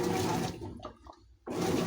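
Washing machine on a heavy duty cycle with all options on, sloshing clothes through water in the tub; loud broadband swishing that drops away briefly in the middle, then surges back, close and alone.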